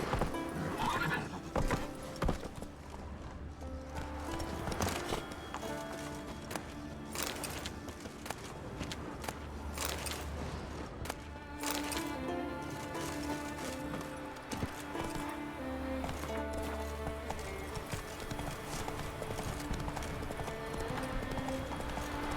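A horse galloping in The Witcher 3: Wild Hunt, with rhythmic clip-clop hoofbeats that carry through the whole stretch, occasional whinnies and snorts, a game music bed underneath, and brief talk now and then.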